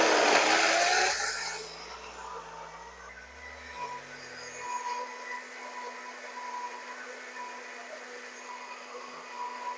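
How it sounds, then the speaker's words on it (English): A blender whirs through a plant-based smoothie with walnuts, loud at first, then its motor shifts pitch and cuts out, leaving a quiet room hum. "So I'm going to continue to blend."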